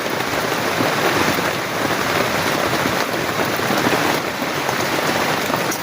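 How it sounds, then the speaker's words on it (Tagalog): Heavy rain pours down steadily during flooding, a dense constant hiss and patter with no break throughout. "talagang sobrang lakas ng ulan dito"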